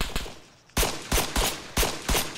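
Gunfire in Arma 3, a brief crackle followed by a pause and then a run of four or five loud, sharp shots in quick, uneven bursts.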